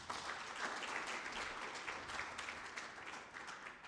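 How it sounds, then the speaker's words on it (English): Conference attendees at a women's gathering clap for the executive team, a brief, soft and somewhat distant patter of many hands lasting a few seconds. "clap hands for my executive, please"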